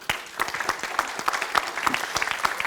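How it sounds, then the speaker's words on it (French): An audience claps to mark the signing of an agreement at an energy conference, with distinct individual claps in a brisk, uneven patter from a modest crowd. "Et pour vous encourager dans cette signature, on vous applaudit."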